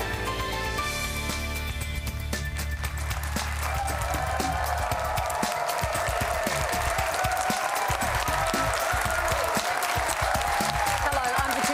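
A rowdy live studio audience in Melbourne applauds at the start of the Q+A election panel show, with dense, sustained clapping and cheering filling the whole stretch and a brief musical sting at the opening.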